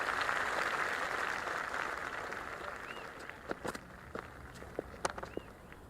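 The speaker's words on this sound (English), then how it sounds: "The crowd is electric right now." A stadium crowd in the Cricket 26 video game during an Australia versus England Ashes Test match, a broad, steady roar of cheering and applause that slowly fades, with sharper claps and thuds near the end.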